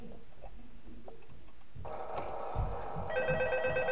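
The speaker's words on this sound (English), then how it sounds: "And we get a phone call." Telephone ringing in the video game Five Nights at Mario's 2, starting partway through as a steady electronic ring over quiet background noise, with a brighter repeated tone toward the end.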